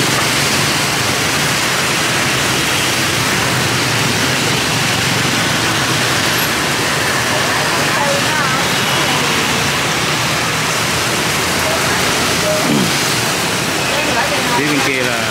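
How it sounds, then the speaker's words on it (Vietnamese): Heavy rain pours down on a Saigon street, a loud, dense, continuous hiss with faint traffic and scattered voices underneath throughout. "Dù Sài Gòn đang đổ mưa rất là to"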